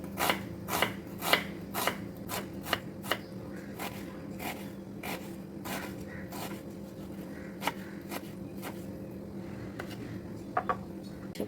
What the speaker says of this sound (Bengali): পেঁয়াজটা কুচি করে নেব।